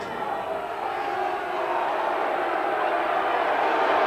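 Large American football stadium crowd in San Antonio giving off a steady, loud, broadband roar that swells slightly louder toward the end, with no distinct voices standing out.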